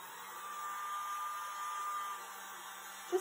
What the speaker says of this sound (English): I am going to use my little dryer again.